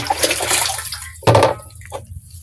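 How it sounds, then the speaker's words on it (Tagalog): Water gushes into a farm sprayer tank for a short, steady splashing pour, with a brief louder surge partway through. "kakargahan muna natin ng tubig"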